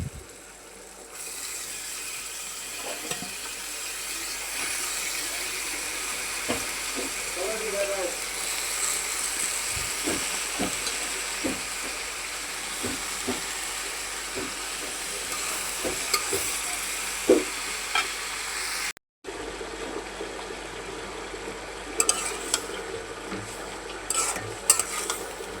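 Greens are added to a pan of sautéed fish and fry with a steady close sizzle, along with intermittent scrapes and taps of a spoon against the pan and a brief pause partway through.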